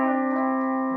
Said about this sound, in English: That's the sound of A pedal rocking on and off.